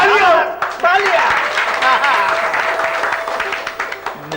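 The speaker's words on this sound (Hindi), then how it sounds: "तालियां, तालियां।" A crowd claps and applauds energetically, the clapping rising under overlapping voices and continuing briefly as people talk over it.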